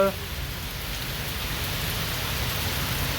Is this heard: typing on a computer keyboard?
no